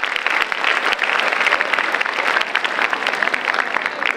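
An audience of students at a Class 10 and 12 guidance camp in Panvel claps energetically, a dense stretch of applause with crisp individual claps standing out, steady and loud for about four seconds.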